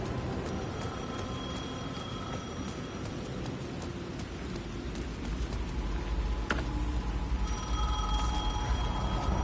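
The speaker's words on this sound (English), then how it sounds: "The phone was ringing again" A telephone rings in a dark scene in the video game Alan Wake 2, as repeated thin bell tones over a dense rain-like wash and rumble that swells slightly toward the end.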